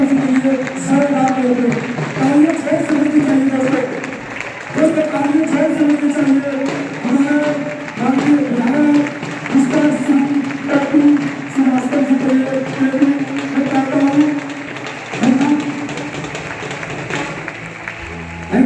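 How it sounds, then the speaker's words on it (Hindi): An audience at a meeting in Lucknow claps to welcome a guest, a dense, steady patter of many hands that runs throughout over a sustained tonal hum of music or voices. "जोरदार ताली के साथ स्वागत करेंगे सर। जोरदार तालियां चाहिए दोस्तों, तालियां चाहिए।"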